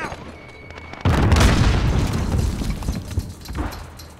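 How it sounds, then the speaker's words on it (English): A grenade explodes in Call of Duty: Modern Warfare with a sudden loud boom that rolls into a rumbling, debris-filled tail lasting several seconds, close and dominant. "Grenade out!"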